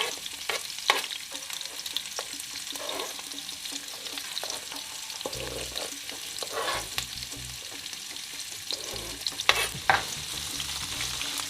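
Scallion and sweet pepper saute in a pot for Jamaican brown stew chicken, giving a continuous soft sizzle with intermittent scraping stirs and clatters, close and moderately quiet with no talking.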